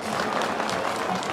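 A festival audience at Kayabelen claps for a poet, dense sustained applause filling the space, loud and even from start to finish.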